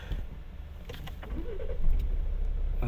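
A 2013 Volvo V60 2.0 D3 diesel with automatic gearbox starts up inside the cabin: a starter crank near the two-second mark lifts into a steady low idle rumble, with faint clicks and rattles earlier on.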